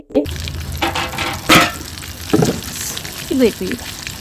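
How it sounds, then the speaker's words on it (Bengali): Pineapple koftas drop into hot oil over medium-low heat and crackle in short bursts of frying, with stirring clatter and scattered bits of voice in between. "আমি অর্ধেক পরিমাণ কোফতা তেলে দিয়ে দিলাম"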